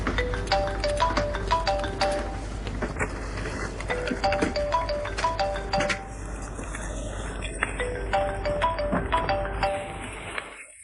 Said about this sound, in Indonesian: Cepat angkat telepon, berisik sekali.